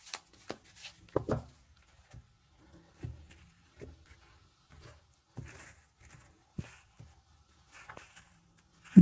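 A tarot deck is shuffled and handled in soft, scattered bursts of card rustles and light taps, close by and fairly quiet, with irregular pauses between them and no voices.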